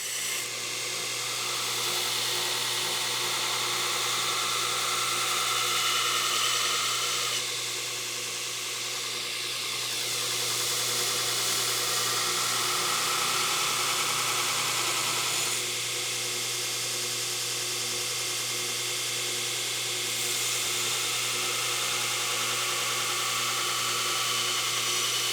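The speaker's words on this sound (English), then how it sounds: "do all my initial grinds with some freehand grinding" Freehand grinding of knife bevels while turning a brush axe into a kukri: a steady, loud abrasive hiss and whine runs unbroken throughout, with slight shifts in pressure and tone.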